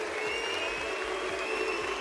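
Steady applause and clapping from a crowd after a Rocket League esports match, a continuous dense patter of many hands held at an even level for the whole stretch.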